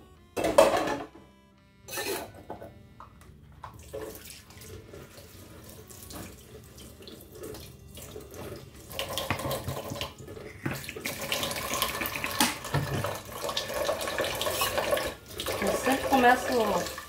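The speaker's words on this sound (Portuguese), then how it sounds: "lavando pelos copos, né? Depois eu vou para as colheres, garfos, e depois eu vou para os pratos" Tap water runs steadily into a kitchen sink while dishes are washed, with clinks and splashes building over time and occasional quiet talk nearby.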